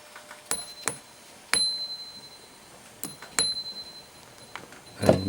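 A heavy metal wheel is struck and rings with clear, bell-like tones: several sharp strikes, each leaving a sustained high ringing that slowly fades, with quiet gaps between.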